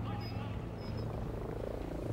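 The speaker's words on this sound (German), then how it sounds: "Heli kann ich jetzt gar nicht gebrauchen." Low, steady helicopter rotor drone from a video game, continuous and fairly loud across the whole moment with a faint high tone above, no voices over it.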